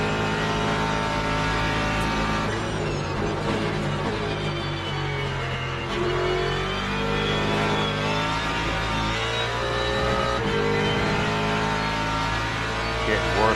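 A Porsche race car engine in a racing video game drones steadily and loudly throughout, a continuous mid-pitched roar with slight rises and falls in revs, with no pauses.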